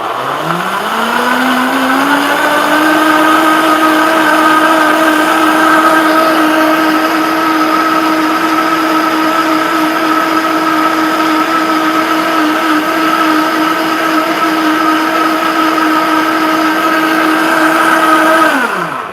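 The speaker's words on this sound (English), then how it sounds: "Let's blend this first." A blender motor whirs up quickly and then runs at a steady, loud pitch for about eighteen seconds before stopping.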